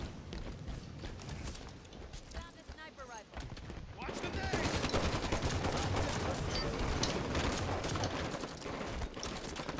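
Rapid gunfire in a Halo 5: Guardians multiplayer match, with continuous bursts and fusillades of shots running through most of the clip, sounding fairly close over busy game noise.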